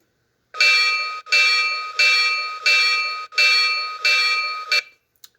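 An O gauge toy train locomotive rings its bell in about six even, clanging strokes that each fade slightly before the next. The ringing is close, loud and alone, and it ends with a short final tap.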